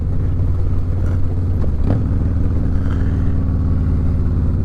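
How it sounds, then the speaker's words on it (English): A Harley-Davidson Low Rider S with a 117 engine and Red Shift 468 cam pulling at wide-open throttle, a loud, steady V-twin roar with a rumbling exhaust throughout and a brief shift-like blip midway. "I can safely say, that wide open throttle pull"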